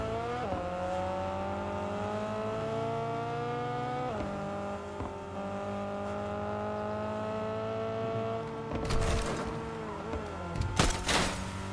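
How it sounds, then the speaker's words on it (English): Racing car engines in the Fortnite video game roar steadily with rising and falling revs and a shift near the middle, then harsher bursts and crackles near the end, no voices. "I didn't know that the sounds are different for each car"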